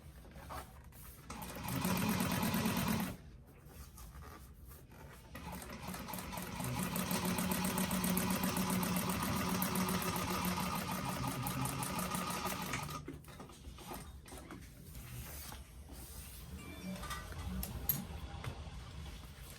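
Sewing machine stitching a bag seam in bursts: a short run, a pause, a long steady whirring stretch of rapid needle strokes, then a quieter final run.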